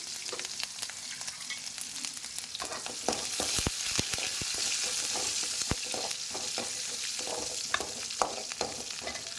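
Small cumin seeds sizzle and crackle in hot oil for a sambar tempering, a steady close frying hiss with scattered sharp pops and occasional stirring, no voices.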